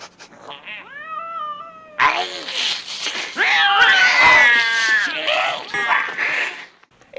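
Several cats meow and caterwaul loudly in a film scene, with drawn-out, wavering yowls overlapping in a near, continuous chorus that swells and fades.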